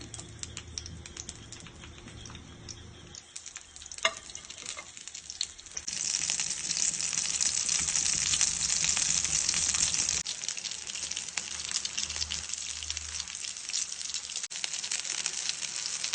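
Chicken shahi kababs fry in a little oil over a low flame, a soft crackling sizzle that grows into a fuller, steady hiss partway through and carries on with small pops, with no talking.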